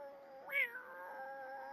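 An angry cat in The Sims 4 lets out a single rising, strained caterwaul that peaks sharply and then trails into a long, steady whining tone, heard alone and close.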